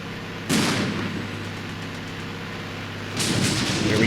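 Tank cannon fire aimed at a moving T-72 in the Armored Brigade war game, two heavy booming shots about three seconds apart, each followed by a rumbling decay, with no talk.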